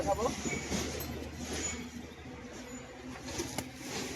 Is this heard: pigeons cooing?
yes